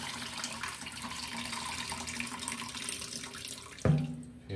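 Tap water runs steadily into a kitchen sink while turkey wings are rinsed, a close, even splashing stream that cuts off abruptly with a brief clatter just before the end.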